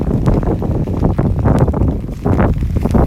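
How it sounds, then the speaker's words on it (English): Strong wind buffets the microphone on a beach in North Naples, Florida, a loud, close, continuous rumble that swells and dips in gusts. "And the wind's picking up out here."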